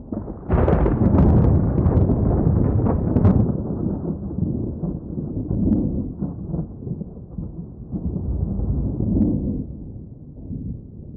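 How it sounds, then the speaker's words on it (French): Rolling thunder from a storm breaks with a loud low crack and then rumbles on, swelling and fading in long waves for several seconds. "nous ne voyons que les nuages qui pleuvoient et le tonnerre qui grondoie"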